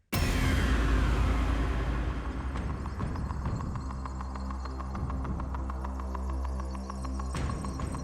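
A coin-pusher drop machine from the TV game show Tipping Point starts up with a loud thud, then runs as a steady mechanical hum with rhythmic clicking pulses and occasional sharper knocks.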